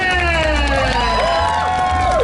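A crowd at an outdoor evening concert on a seaside viewing platform in Anping, Tainan cheers and shouts, loud and steady throughout, with whoops and some applause rising from the audience.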